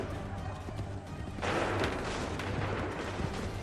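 A cannon volley booms out in Assassin's Creed III, one heavy burst of fire halfway through that rolls into a sustained rumble over low background battle noise.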